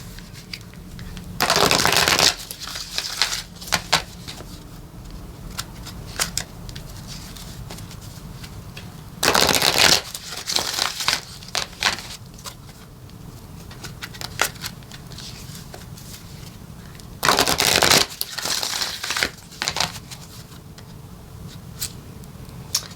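Colette Baron-Reid oracle cards are riffle-shuffled in three long papery bursts, close and crisp, with softer handling clicks and taps filling the gaps between them.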